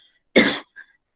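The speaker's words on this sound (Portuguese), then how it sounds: "manda ela tossir 3 vezes, tosse seca" A single sharp, dry cough, close and loud, followed by a brief faint after-sound in near silence.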